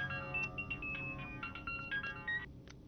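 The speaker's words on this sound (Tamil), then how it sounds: "ஏய், ஃபோன் அடுறா." A phone rings with a melodic electronic ringtone, a bright repeating tune of short notes at moderate volume over a faint background.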